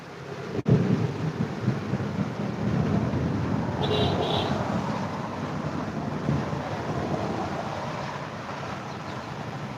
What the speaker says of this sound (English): I think you can hear the thunders right there